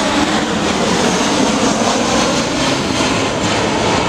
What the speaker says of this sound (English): Just let that plane go past.